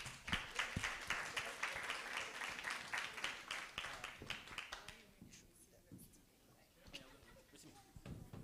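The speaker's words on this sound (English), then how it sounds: "Round of applause." A crowd claps in a dense burst of applause that thins out into scattered claps, with voices murmuring underneath.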